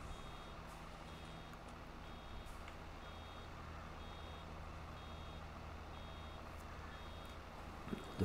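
A Tesco delivery truck in Farming Simulator 22 reversing on the Medvedin map, its backup alarm beeping in a steady, evenly spaced run over a constant engine drone, moderately loud with no talk.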